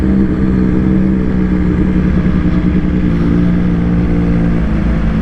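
A BMW HP4 Carbon motorcycle engine runs loud and close with a steady rumbling drone, holding a fairly even note for several seconds without talk.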